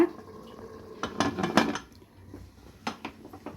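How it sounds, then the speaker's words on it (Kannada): A pressure cooker lid is closed over a pot of fenugreek rice, giving a series of close metallic clatters and knocks in two clusters with quieter pauses between, with no talk. "ಮುಚ್ಚಿಸ್ತಾ ಇದ್ದೀನಿ ಕುಕ್ಕರ್ ಮುಚ್ಚಳ"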